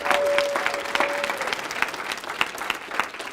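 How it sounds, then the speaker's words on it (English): A seminar audience gives a short burst of applause, dense clapping that tapers off over a few seconds while a faint voice sounds underneath. "Let's give Cody and Dallas another round of applause"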